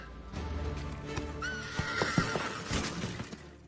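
Horses from the film Gladiator whinny and neigh close by while hooves clip-clop and thud, with sharp impacts scattered over a busy battle-like background and no clear talk.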